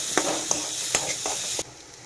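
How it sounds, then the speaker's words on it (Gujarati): Onions sauté in a hot pan with cumin, garam masala and chaat masala, a steady close sizzle broken by a few light scraping stirs before the sound drops off. "હવે ડુંગળી સાતળી જાય ત્યાં સુધી આપણે આને રહેવા દઈશું."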